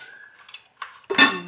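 A lid goes onto a cooking pot of fish curry with a few light metallic clinks and scrapes, ending in a louder ringing clank, close by with no voices.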